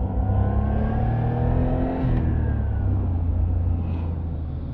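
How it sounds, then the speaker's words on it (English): A Suzuki Cappuccino's small tuned-capable engine revs steadily with a refined, continuous drone and rising harmonics, close and loud throughout with no talking. "It's a surprisingly refined noise, I think. And uh, these engines can be tuned up."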